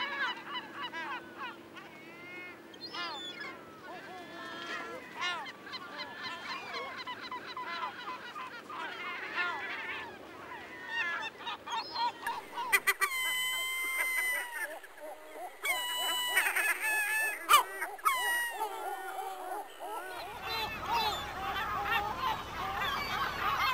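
Gulls feeding at a landfill give a dense chorus of raucous, overlapping squawks and honking calls close by, over a low rumble that drops away partway through.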